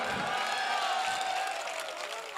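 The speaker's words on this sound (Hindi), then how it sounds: "आनी चाहिए ताली अपने आप।" An audience at a Hindi comedy poetry recital claps and cheers, a loud, sustained burst of crowd applause that holds steady and tapers slightly toward the end.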